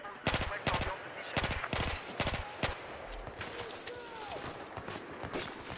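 Rapid bursts of gunfire from an enemy soldier in Battlefield 4, loud sharp volleys in quick clusters over the first few seconds, then sparser shots against a busy battlefield background.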